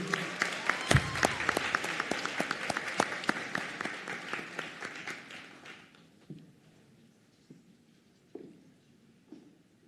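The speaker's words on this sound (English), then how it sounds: "Another round of applause for this group." Graduation-ceremony audience applauding nursing graduates after their pinning: dense, loud clapping for about six seconds that thins out and fades, leaving a few scattered late claps.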